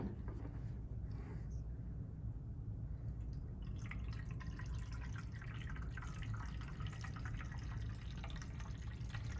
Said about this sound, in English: You put the water into the tank before you put the tablets in.